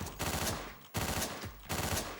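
An assault rifle firing in the Hotline Miami video game, three loud sustained bursts of rapid automatic fire separated by short gaps, fairly faint overall.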